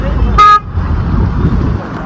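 A road vehicle pulls up and gives one short, loud horn toot, followed by a steady engine and traffic rumble close by.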